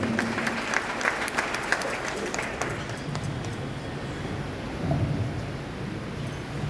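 Full applause in a cathedral welcoming a newly sworn church trustee, a dense rain-like clatter of many clapping hands filling the space, tapering to a lower murmur toward the end.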